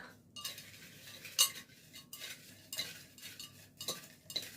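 Small metal objects, including a ring and a nail, rattle and clink inside a glass jar in a series of brisk shakes, with sharp bright clinks standing out between softer rattling.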